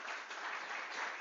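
Audience at a medical grand rounds lecture applauding, a short, even burst of dense clapping heard from a moderate distance.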